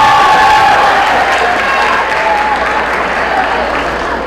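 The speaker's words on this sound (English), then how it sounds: "Y'all give Dr. Deborah a round of applause" A school audience at a high school STEM lecture breaks into steady, loud applause with some cheering, a dense wash of clapping that holds throughout and eases slightly toward the end.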